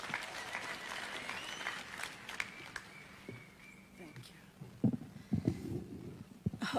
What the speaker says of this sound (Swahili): Simumpigie makofi.